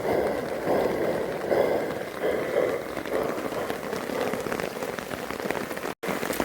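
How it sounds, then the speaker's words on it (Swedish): Steady rain falls during a wet day on a canoe trip through Halland, a dense continuous patter of drops on surfaces at moderate loudness, with no talk. "det är väldigt regnigt"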